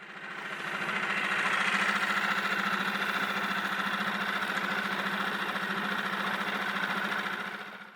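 A kayak's outboard motor runs slowly through a shallow, narrow channel between islands, a steady close puttering drone with a fast regular pulse, swelling in and holding evenly without voices.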